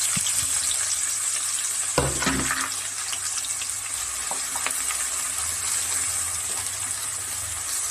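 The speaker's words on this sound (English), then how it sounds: "Then I'll add cumin seed and let them roast well." Cumin seeds sizzle and roast in a hot pan for paneer bhurji, a continuous close frying hiss with a few faint clanks of a utensil and no talk.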